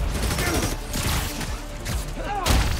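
Enemy gunfire in Spider-Man: Miles Morales, a rapid scatter of shots and impacts mixed with thuds and game action, loud and busy across the short stretch.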